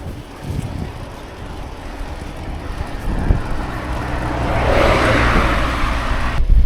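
Traffic on a busy road near Adria in the Polesine, heard from a bicycle: a broad rumbling wash that swells as a vehicle draws close, mixed with gusty wind noise.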